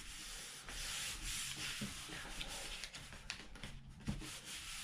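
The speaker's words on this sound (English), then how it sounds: "I'm just smoothing everything out with my hands." Soft, close rubbing and brushing as hands smooth vinyl onto a Santa snack tray, a continuous faint scuffing swish with small irregular strokes and no voices.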